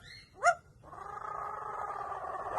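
A pet parrot mimics a cat, giving a brief squeaky note and then a longer, rougher meow-like sound, close but fairly soft.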